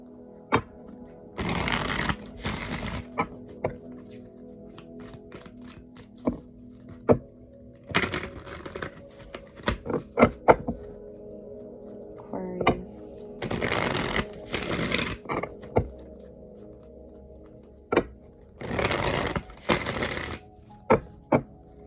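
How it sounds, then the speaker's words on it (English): Tarot cards shuffled by hand in repeated riffling bursts, close and crisp, with short pauses and scattered taps between the runs. "let's get a good shuffle."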